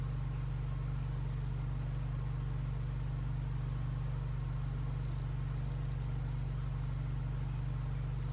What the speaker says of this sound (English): Sorry about the generator noise in the background.